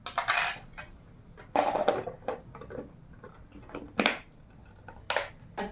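A small steel spoon and a child's tiffin box are handled, giving a few sharp metallic clinks and rattling knocks in quiet, separated bursts, close by and with no talking.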